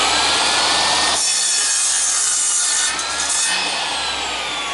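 A drop saw slices through a piece of wood in one close, loud, harsh cut that lasts a few seconds, with no talking over it.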